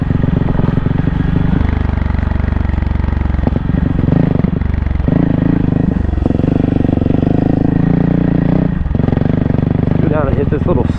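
A 2024 Kawasaki KLX300R dirt bike climbs over big rocks on a cross-country trail. Its single-cylinder engine drones loud and close the whole time, with bursts of throttle and clattering as the bike jolts over the stones.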